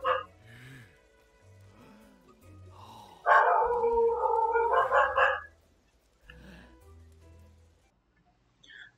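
A dog outside barks and yelps in loud bursts, with one long, insistent stretch in the middle, while a person talks between the outbursts.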